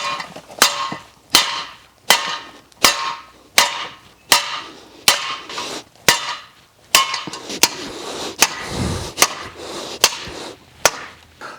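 A lump hammer drives a post base into the ground through a 4x4 post offcut capped with plywood, giving about fourteen loud, sharp blows in a steady rhythm of roughly one every 0.7 seconds, with no talking.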